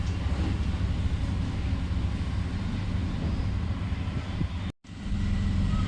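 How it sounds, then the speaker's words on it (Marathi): A small 12V DC motor fitted with a fan blade and a small exhaust runs with a steady continuous hum and whir, close and fairly loud, with a brief dropout near the end. "मोटर चालू आहे"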